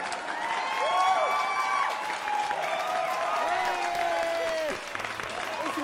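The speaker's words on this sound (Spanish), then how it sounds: "recibamos todos con un fuerte aplauso a Marqués." Audience applause for a performer, a dense steady patter of many clapping hands with scattered cheers and whoops, heard close and continuous as voices talk over it.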